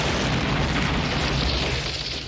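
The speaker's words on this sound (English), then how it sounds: "That was a bomb?" A deep, rumbling bomb blast from a 1991 action film trailer booms loudly and rolls on for a couple of seconds before easing off slightly.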